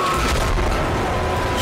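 Heavy booming weapon fire in Dead Space, a thick, loud, rumbling blast sustained for a moment with no voices over it.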